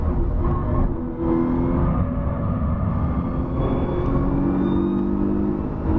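2020 Nissan GT-R Nismo engine on a race track, a steady loud droning roar with road rumble, held throttle without big revs changes, no talking.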